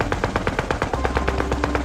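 Soviet machine gun firing a fast, even burst of loud rounds, each shot sharply spaced, close and unbroken for about two seconds.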